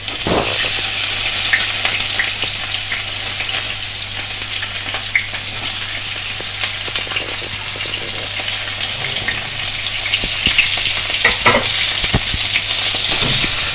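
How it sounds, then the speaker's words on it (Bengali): Chopped garlic and onion frying in hot oil in a pan while preparing an eggplant dish, a loud steady sizzle with crackles and occasional stirring scrapes, no speech. "এবার এক এক করে আমি দিয়ে দিচ্ছি রসুন কুচি, আর দিয়ে দিচ্ছি পেঁয়াজ কুচি।"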